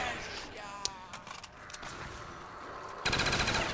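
Full-auto gunfire from a weapon in Call of Duty Zombies on the Kino Der Toten map. Scattered shots and clatter lead into a loud, sustained rapid burst near the end, with other game noise underneath.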